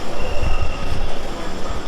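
A Dhaka Metro Rail train pulls into Uttara North Diabari station, a loud steady rumble of wheels on rail with rattling carriage noise and a faint high squeal, no voices.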